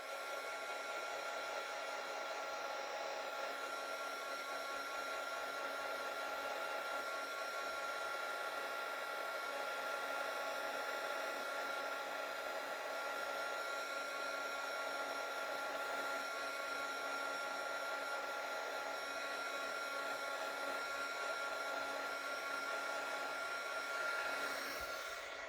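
A hair dryer blows steadily on wet paint on paper, a continuous close whir at even loudness.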